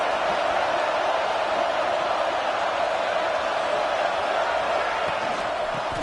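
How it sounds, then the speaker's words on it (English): Steady stadium crowd roar from the Madden 23 football video game, a dense continuous wash of cheering voices that holds level throughout with no breaks. "This crowd trying to make life miserable for this offense."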